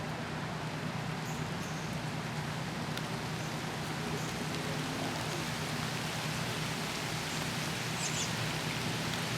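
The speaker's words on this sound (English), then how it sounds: "it's starting to rain again" Steady rain falling outdoors over a field amid storm damage from Hurricane Sandy, a continuous dense patter with no speech and only faint scattered sounds above it.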